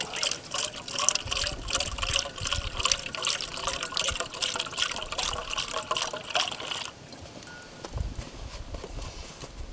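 Milk poured for pancake-style batter at a winter campsite, a continuous close liquid gush and trickle filling a container, then a quieter stretch of faint outdoor noise.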